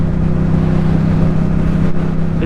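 A 2014 Yamaha MT-07 motorcycle engine drones steadily and loudly while riding, a close, even low hum with no speech over it.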